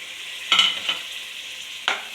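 Tomatoes frying in oil in a pan for veg dhone biryani give a steady, soft sizzle. Two or three quick scraping stir strokes stand out close by, with no voices.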